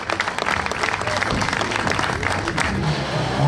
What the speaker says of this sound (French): Allez, on l'applaudit une dernière fois.